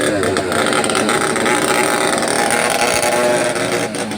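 Racing karts on the VKA Springfield kart track rev and shift gears, with loud continuous buzzing engine noise rising and falling nearby. A voice talks over it.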